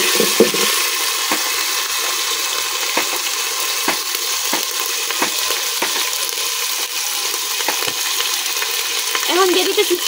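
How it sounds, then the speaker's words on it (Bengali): Ginger-garlic paste frying with browned onions in a pan on a village cooking fire, a continuous close sizzle broken by regular clinks and scrapes of a spoon stirring. "এখন আমি দিয়ে দেব আদা রসুন বাটা।"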